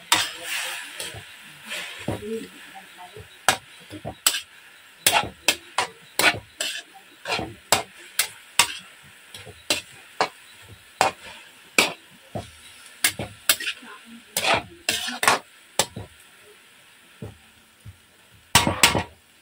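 Sliced banana blossom stirred in a pan with a sweet syrup just added, giving a series of sharp scraping and clacking utensil strokes against the pan at an irregular rhythm, close and fairly quiet.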